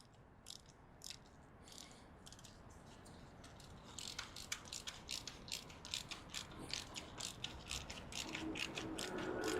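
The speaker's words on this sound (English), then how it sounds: "And then, yeah, tighten these almost all the way." A ratchet tightens the rear brake caliper bolts on a Moto Guzzi V85TT during a pad change, giving quiet, rapid clicking bursts that grow denser and louder toward the end.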